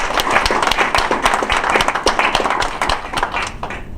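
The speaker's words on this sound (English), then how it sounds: "give them an applause." Applause from an audience at a Port of Palm Beach commission meeting, dense steady clapping for a few seconds at close range.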